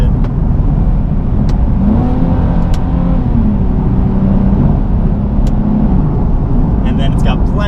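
Nissan 370Z, a 2014 model, pulling hard out of a sharp turn, its engine note rising and holding steady in-cabin, with continuous road and wind noise underneath.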